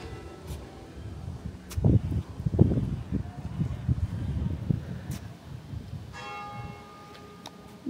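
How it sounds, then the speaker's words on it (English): Church bells ring out in the distance in Stafford, Staffordshire, England, in summer, clear tones carrying over soft wind and outdoor rustle. "The church bells."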